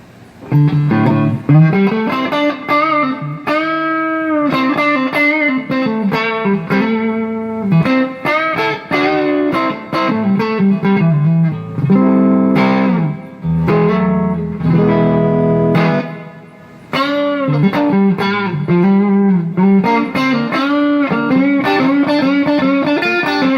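An electric guitar plays through a Vox Bruno TB18C1 amp with a touch of reverb, bluesy chords and single-note phrases ringing loud and continuous, with no talking.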